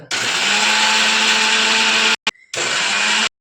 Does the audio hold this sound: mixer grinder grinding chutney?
yes